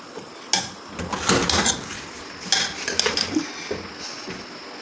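Keema spaghetti is served out of a pan, with metal utensils scraping and clinking against cookware in irregular bursts at close range.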